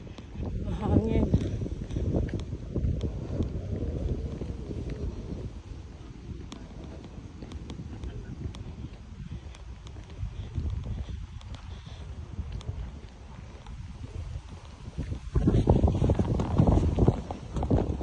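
Wind blowing outdoors buffets the microphone in gusty low rumbles throughout, strongest near the end, while a person speaks over it.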